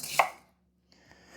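A knife chops an onion into chunks on a cutting board in a home kitchen, one sharp nearby chop, then quiet and a faint second cut at the end.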